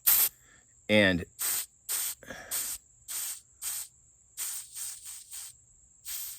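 Butane gas canister valve pressed repeatedly, giving about a dozen short sharp hissing spray bursts in an even rhythm, close and fairly loud, with a brief spoken word among them.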